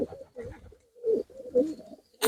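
Pigeons coo nearby in a village loft in soft, throaty, repeated rolling calls, several in a row with brief pauses between.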